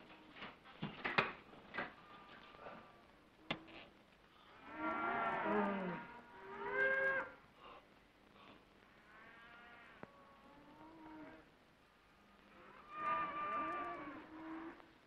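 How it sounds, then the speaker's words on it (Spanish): Cattle low in the countryside with several drawn-out moos, grouped in two bursts and then one more near the end, moderately close over a quiet outdoor background. "Mira, fíjate cuánto ganado."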